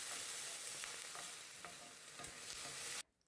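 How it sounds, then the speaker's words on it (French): Garlic and onion frying in a little oil in a pan, a steady close sizzle with a few light stirring scrapes, then it suddenly stops near the end. "je fais revenir l'ail et l'oignon dans un peu d'huile"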